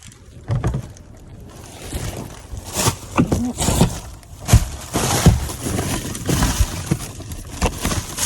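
Something rattles and clatters inside a discarded item pulled from a dumpster, like broken glass shaken around, in irregular bursts of close, knocking and jingling hits over steady background noise.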